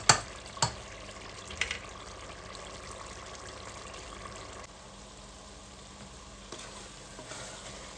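Mash dal sizzles and fries in a pan as it dries out, with a steady close hiss, a few sharp clicks of stirring at the start, and a quieter stretch near the end.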